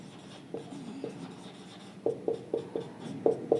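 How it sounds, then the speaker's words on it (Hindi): Chalk or marker writes on a board in a chemistry lecture, giving a run of short, rhythmic taps and scratches that grow more distinct and regular toward the end, heard clearly in a quiet room. "एक साइड से लिखना शुरू करते हैं"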